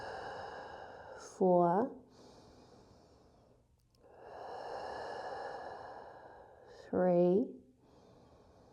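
Slow, deep breaths are taken during a yoga core workout, each long airy exhale audible up close, with a voice counting down between them.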